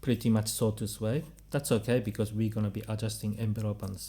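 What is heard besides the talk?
No distinct noise like a dog, phone or traffic.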